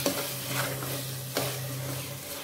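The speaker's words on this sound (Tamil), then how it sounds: "நல்லா வதக்கி விட்டுருங்க." Coriander leaves being sautéed and stirred in a pan for vegetable biryani, a steady soft sizzle with a scraping stir sound, close and continuous with a sharper stroke midway, no talking.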